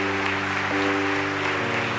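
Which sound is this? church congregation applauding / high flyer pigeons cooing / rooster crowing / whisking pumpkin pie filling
church congregation applauding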